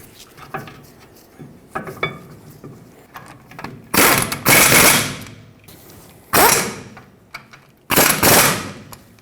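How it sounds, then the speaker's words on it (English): Caliper mounting bolts on a Ford F-350 axle driven in with an impact wrench or ratchet. A few light clicks come first, then three loud, close bursts of harsh rattling hammering, each lasting about a second, with no talking. "And put in your 2 bolts that mount it onto the axle."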